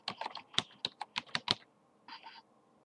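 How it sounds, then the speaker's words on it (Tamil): A computer keyboard is typed on in a quick, close burst of clicky keystrokes, then a brief pause and a short final flurry, with no talking over it. "எக்ஸாம்பிள் நான் இப்போ டைப் பண்ணுறேன்."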